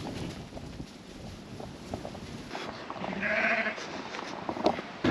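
Dorset stud ewes bleat on an Australian sheep farm in dry conditions, a few calls rising over wind and general livestock movement, moderately close and clear.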